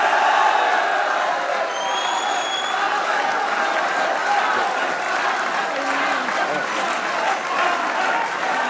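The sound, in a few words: applause and cheering for cricket players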